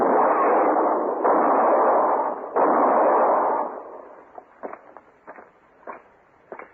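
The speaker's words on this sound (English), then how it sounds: "He was going to shoot Mr. Hinkle" Gunfire in an old-time Western radio drama: a few loud, sustained blasts in quick succession, followed by several short, sharper cracks that fade off.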